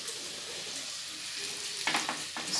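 Chopped ginger deep frying in oil on a medium flame, a quiet, steady sizzle that flares into brief louder bubbling bursts toward the end.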